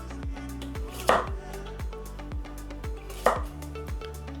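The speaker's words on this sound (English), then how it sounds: "Then you just cut it into thin slices like this." Knife slicing carrots into thin slices on a cutting board, a steady run of about a dozen close, crisp chops with two heavier knocks among them, no talking.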